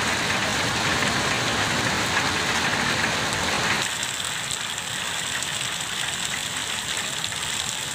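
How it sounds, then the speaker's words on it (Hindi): Heavy hail and rain pelting down over the town of Jhunjhunu in Shekhawati, a dense, steady roar of impacts that stays loud throughout and eases slightly in the second half, with no voices. "आज शेखावाटी के झुंझुनू शहर में जमकर ओलावृष्टि हुई।"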